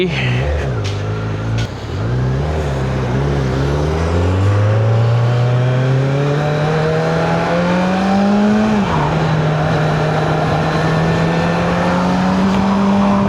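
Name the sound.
Kawasaki Z900 motorcycle setting off on a ride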